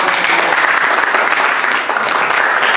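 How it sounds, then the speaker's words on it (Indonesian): Schoolchildren in an Indonesian classroom clap for a group after its presentation, dense steady applause filling the room with no voices over it. "Oke, tepuk tangan untuk kelompok."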